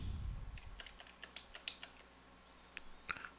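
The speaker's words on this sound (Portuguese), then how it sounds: "Dou um Enter aqui, né?" Keys on a computer keyboard being tapped while entering a value in a Lazarus Pascal lesson, ending with the Enter key: a dozen light, scattered clicks, close but quiet, over faint room hiss.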